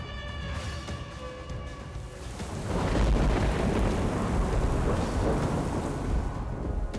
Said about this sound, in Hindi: बिजली कड़कने की तेज आवाज ने चौंका दिया।